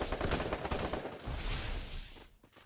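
Rapid bursts of gunfire from a video game crackle continuously, dense and harsh, fading slightly toward the end.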